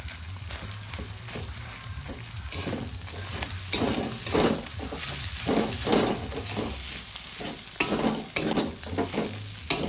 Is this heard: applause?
no